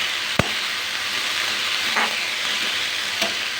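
Soybean chili tossed with masala in a hot pan sizzles in a loud, steady hiss close by, broken by a few sharp utensil clacks against the pan.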